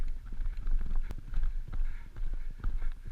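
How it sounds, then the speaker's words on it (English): A horse gallops flat out over rough ground during a long-distance endurance horse race, its hooves drumming in quick uneven beats, close and loud, with stumbles in the rhythm. "this horse just went flat gallop over this ground, stumbling, tripping, just catching himself, full pelt."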